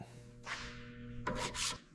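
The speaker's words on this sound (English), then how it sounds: "we're just hitting this rear section with the sander now, trying to get all this pitted rust off" An electric sander grinds pitted rust off the rear section of an old metal model locomotive, with steady abrasive rubbing over a low hum and two louder, harsher bursts of rasping near the end.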